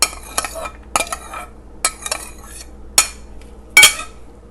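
Sliced potatoes for aloo chaat tumble into a bowl in several separate bursts of clattering and scraping, sharp and close, with quiet pauses between each drop.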